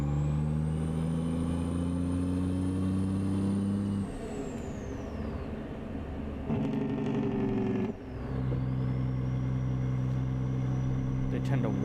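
A truck engine in American Truck Simulator holds a steady droning rev, dips for a few seconds, then surges back with a whining pitch shift and an air-brake hiss, heard close and continuous.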